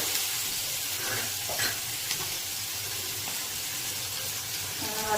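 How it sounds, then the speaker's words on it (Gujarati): Onion, chili, garlic and ginger paste sizzles in a pan for Kathiyawadi brinjal oro, a continuous close frying hiss with scattered stirring clicks throughout. "હવે આપણે થોડી સાતળી લઈશું."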